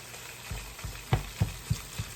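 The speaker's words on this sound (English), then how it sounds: "I'm going to give this a stir." A spoon stirring soup with crumbled beef and water in a pot gives a few soft, rhythmic scrapes and knocks about every third of a second over a faint sizzle, close and quiet.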